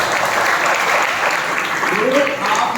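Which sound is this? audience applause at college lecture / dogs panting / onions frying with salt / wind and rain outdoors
audience applause at college lecture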